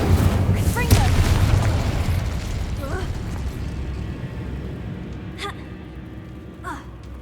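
Spell blasts in Hogwarts Legacy: a heavy boom with a crackling burst opens, then lighter magical pops follow as the rumble fades, with game ambience underneath.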